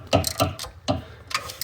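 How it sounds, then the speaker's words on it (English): Ratchet wrench tightening a bolt on a Nissan 350Z, heard as a few close, sharp clicking pulls in an uneven rhythm, each burst of ratcheting followed by a short pause. "So I'm gonna put a ratchet on there."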